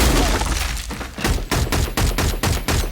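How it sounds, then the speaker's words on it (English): Loud, rapid gunfire from an action scene in the film Wind River (2017), a fast series of heavy booming shots with brief gaps, close and forceful. "The sound of gunfire comes off like real gunfire"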